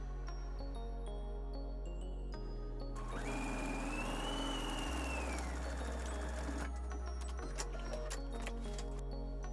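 A sewing machine stitches and backstitches a sling tote bag, a steady close mechanical whir that rises in the middle and settles back to lighter running, over a constant low hum, with no talking.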